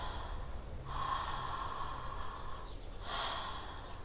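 Deep, slow breaths during a conscious connected breathwork session, with a long airy inhale and a second rush of breath near the end, close and fairly loud with no talking.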